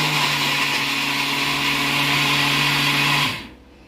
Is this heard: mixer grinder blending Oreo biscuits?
yes